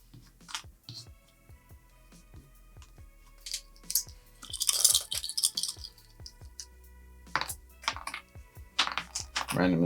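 Small hard board game pieces for Dark Blood clatter and click against each other in quick irregular bursts, with a louder rattling shuffle in the middle, close by.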